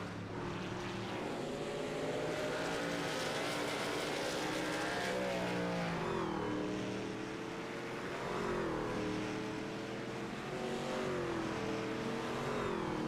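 Race cars in a sim racing league game drive laps, engines whining and shifting pitch as several cars pass in succession, fairly loud and steady with no voices.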